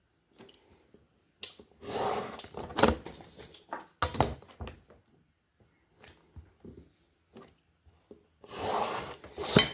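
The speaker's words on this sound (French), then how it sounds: "Le cutter. On va pas se mentir, ça va beaucoup mieux qu'un ciseau," A utility knife scrapes and slices through a paper label in short, close rasping strokes separated by pauses, with one louder stretch near the end.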